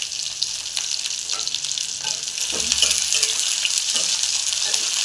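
Spinach with garlic fries in a pan with a steady, loud sizzle and light stirring scrapes, continuous throughout without speech.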